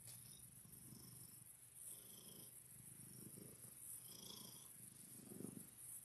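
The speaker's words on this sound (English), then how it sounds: "Listen to that purr." Harry the cat purrs up close in a soft, rumbling rhythm of repeated breathy pulses, with a faint high insect-like hiss and chirping in the background.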